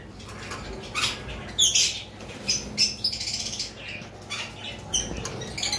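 Double-factor yellow collar lovebirds chirp at close range in sharp, scattered bursts of tweets and squawks, some clustered in quick runs, over a low background hum.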